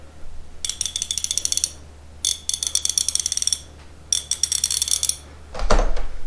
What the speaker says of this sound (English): Here's the sound of the 1/2 inch.